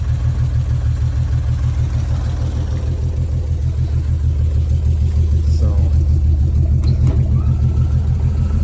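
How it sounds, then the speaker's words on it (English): A 216 Chevy engine idles nearby with its fan running, a steady, loud low rumble with a regular pulsing beat throughout, no voices. "So I can actually just hear the fan running."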